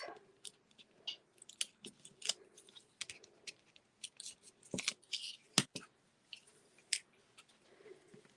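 Backing paper peeled off a strip of tear-and-tape on ribbon, heard as a run of small crisp crackles and tearing snaps, close and fairly quiet, with no talking.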